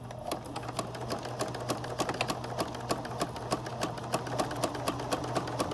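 A sewing machine stitches a half-inch seam, its needle ticking in a steady fast rhythm over a constant motor hum, close and unaccompanied by talk.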